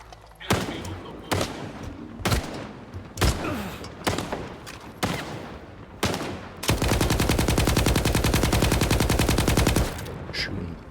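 Gunfire in STALKER 2: several loud single shots spaced apart, then a long rapid automatic burst of about four seconds, with talk faintly present.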